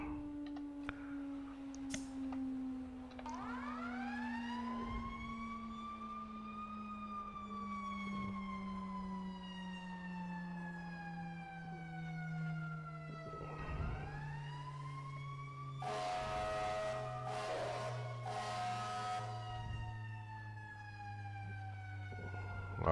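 FDNY fire engine in the EmergeNYC firefighting simulation, a wailing siren cycling up and down over a steady low engine drone, with bursts of air horn blasts later, loud and continuous.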